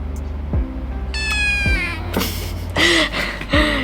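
A pet cat meows repeatedly indoors, several drawn-out, rising-and-falling cries close by, with harmonic wails spaced across a few seconds and no talking.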